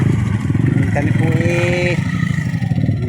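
A motorcycle engine runs steadily on a rough dirt road heading toward a river, with a low rumbling drone throughout and a brief tonal whine in the middle, while people talk over it.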